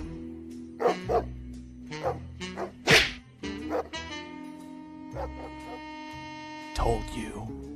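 A dog barks and yips several times in short irregular bursts, loud and close, amid other voices and a sustained tonal musical background.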